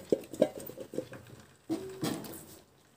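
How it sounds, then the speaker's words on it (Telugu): Washed amla gooseberries drop into hot groundnut oil in a kadai, giving a few close, soft taps and patters followed by a brief sizzle. "ఇందులో మనం కడిగి శుభ్రం చేసి పెట్టుకున్న ఉసిరికాయలు వేసుకుంటున్నామండి"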